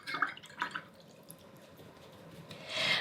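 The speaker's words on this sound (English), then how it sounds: "then I'm gonna rinse out my paintbrush" A watercolor paintbrush swished in a water cup gives faint, light drips and small splashes, a few soft plinks early on and a gentle trickle near the end.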